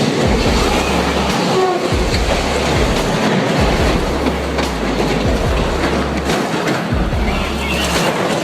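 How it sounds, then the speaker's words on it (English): A freight train caught in a landslide derailment produces a loud, steady rolling rumble with rhythmic clacking of wagons throughout, and no voices are heard. "A landslide caused a train derailment, but luckily it was only a freight train."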